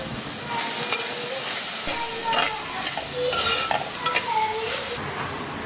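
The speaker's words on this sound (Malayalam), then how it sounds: "2 വലിയ തക്കാളി ചെറുതാക്കി അരിഞ്ഞിട്ടുണ്ട്, അതും ചേർത്ത് കൊടുത്ത് നന്നായിട്ടൊന്ന് വഴറ്റിയെടുക്കാം" Onions and chopped tomatoes with rock salt sizzle in a pan for ulli theeyal onion curry, an up-close hiss broken by repeated scraping strokes of a stirring spoon.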